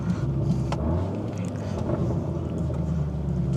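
A 2018 Volkswagen Golf R drives along with its engine note as a steady low drone under road and tyre rumble, heard from inside the cabin at a moderate, even level.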